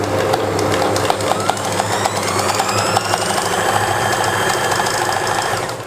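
A sewing machine stitches the fitting seam of a summer shirt, running in a steady, continuous mechanical whir with rapid needle rattle, close and loud throughout.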